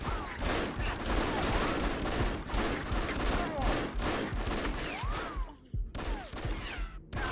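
Firefight in the video game Afterfall Insanity: dense bursts of loud gunfire repeating throughout, with brief gaps near the end and faint game voices in the mix.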